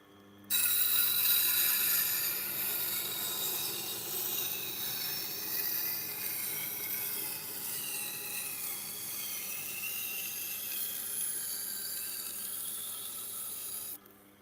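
A chef knife being sharpened, with a burr raised, gives a continuous abrasive grinding and scraping that stays steady and close for about thirteen seconds, with no talking.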